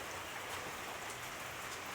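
Steady rain falls in an even, dense hiss with soft patter on surfaces, close and continuous throughout, during a rainy day at a home with garden plants.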